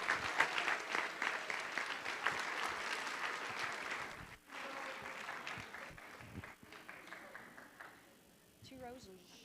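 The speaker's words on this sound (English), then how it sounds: "Let's give them a round of applause." An audience at a school board meeting applauds honor roll students, with sustained clapping filling most of the stretch before tapering off near the end.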